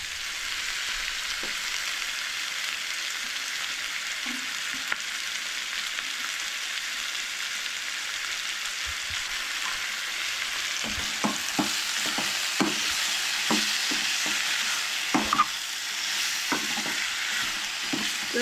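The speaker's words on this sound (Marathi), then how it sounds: "कांदो टमाट आले लसूण आणि हांगसर उदक बीन नाही अजिबात ॲड करपाचें ना, अशेंच परतून घेवंक जाय" Chopped onion, tomato, ginger and garlic sauté dry in a pan for Goan-style chole, a steady close sizzle with a run of sharp spoon scrapes and taps near the end.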